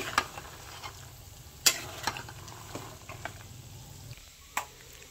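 Peanuts stirred and roasted in a pan make faint, quiet scraping and sporadic sharp clicks of nuts against metal over a low background hum.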